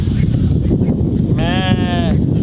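Lamb of mixed Shetland Fin and Jacob sheep breeding bleats once, a clear wavering cry at close range, over steady wind noise and outdoor rumble on a homestead.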